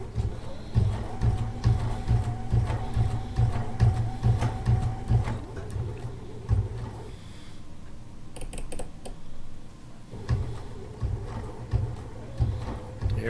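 A sewing machine stitches a straight line of sashiko-style quilting at a stitch length of 3, running in a steady rapid mechanical patter that eases and resumes, close and fairly loud.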